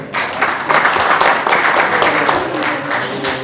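Applause fills a municipal council meeting room, a group of people clapping steadily and fairly close throughout the few seconds.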